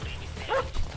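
A dog in GTA V gives a single short bark or yip midway, over low background rumble.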